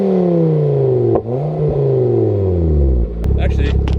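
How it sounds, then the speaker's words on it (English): A Golf R with a 2.5T five-cylinder engine revs up and settles back, its loud, close exhaust note rising and falling in a couple of quick blips before a rougher, rumbling idle. "There's that 5-cylinder rumble. I'll give you a couple revs too real quick."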